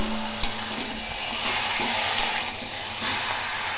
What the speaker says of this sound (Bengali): এই কড়াইয়ে একটু মাংসগুলো গরম কড়াইয়ে নেড়ে নেব